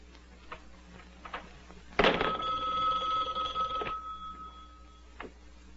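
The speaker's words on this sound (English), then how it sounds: "Hang up the phone, Mr. Kovac." A telephone bell rings once, a loud metallic ring lasting about two seconds in a quiet room, with faint soft sounds before and after it.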